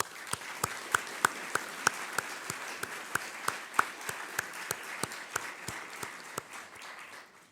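Applause at a National Press Club address by the CDC director, sounding as sparse, evenly spaced claps, roughly three per second, crisp and close, thinning out toward the end.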